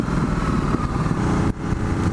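A Ducati Multistrada 1260S engine runs while riding, a loud, steady, close drone with heavy wind rush and a brief dip around the midpoint.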